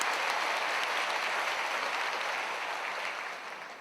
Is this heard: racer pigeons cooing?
no